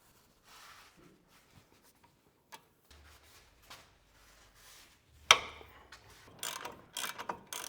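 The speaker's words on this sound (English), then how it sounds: "take our 21 millimeter socket and get the bracket for the brake caliper off" A ratchet fitted with a 21 mm socket loosens brake caliper bracket bolts during a wheel bearing job, with faint intermittent clicks and clanks followed by a louder burst of rapid ratcheting near the end.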